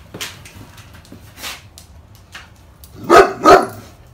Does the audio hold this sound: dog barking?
yes